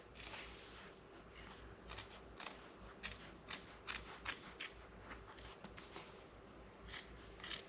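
Scissors snipping through convertible top material along the stitching on a 1967 Volkswagen Beetle, a quiet close series of crisp irregular cuts in a hushed room.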